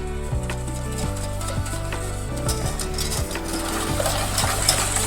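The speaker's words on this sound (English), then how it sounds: "And we just mix this until it thickens up a little bit." Ube mamon batter being stirred until it thickens, steady scraping and clinking of a utensil against the bowl, continuous and fairly close, with a low mechanical hum underneath.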